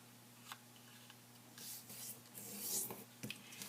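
Paper folded in half for an origami ribbon letter: close, soft crinkling and rubbing with brief creasing swipes that build toward a louder rustle near the end, over a faint steady hum, with no talking.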